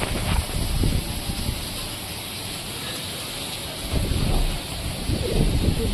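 Wind picking up outdoors as the sky darkens before a storm, a broad steady rushing roar that swells and gusts near the start and again toward the end, with no talk over it.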